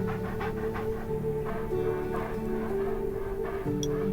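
A dog pants in Undawn, quick rhythmic breaths over a constant low game hum, close and fairly quiet, with a short yip near the end.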